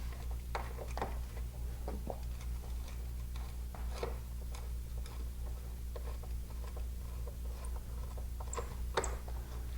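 Screws are driven into a Honeywell 5800PIR-RES wireless motion detector by hand, giving quiet repeated ticking and ratcheting clicks in an irregular rhythm over a low steady hum.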